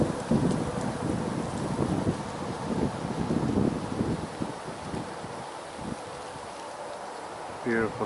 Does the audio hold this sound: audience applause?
no